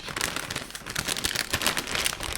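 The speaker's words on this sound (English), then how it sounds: "Sorry, don't mind the rustling." Crinkly plastic rustling of a Costco Korean-style sweet and spicy puffs snack bag being handled and pulled open, close up, a continuous crackling texture with no talk.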